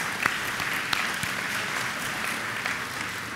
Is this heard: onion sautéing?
no